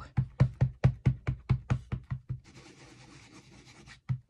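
A rubber stamp rubbed back and forth on an ink pad, roughly a dozen quick, evenly spaced scuffing strokes followed by a softer, steady rubbing hiss and one final stroke, close and alone.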